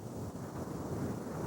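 Steady Patagonian wind roars and buffets without a break, a dense, low rushing noise that fills the whole moment.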